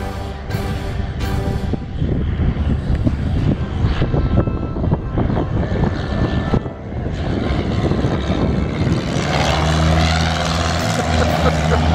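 A propeller airplane comes in to land on its first flight, with a continuous loud engine drone and wind rush that swells toward the end, heard up close.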